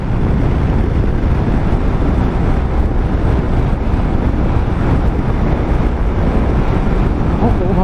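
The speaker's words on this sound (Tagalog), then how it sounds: "Lakas ng hangin." Strong wind at San Fabian, Pangasinan, buffets the microphone with a loud, steady roar that lasts the whole time, with no break.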